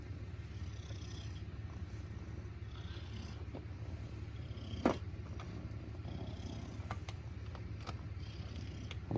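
A cat purrs close by in a low, steady rumble that runs the whole time, with a few faint clicks and rustles from a room where PC parts are being cleaned.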